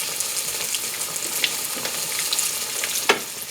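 Cornstarch and rice-flour coated green tomato slices fry in hot oil, a steady close sizzle and bubbling hiss with occasional sharper pops and crackles.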